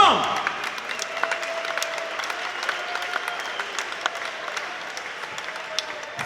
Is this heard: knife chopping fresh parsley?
no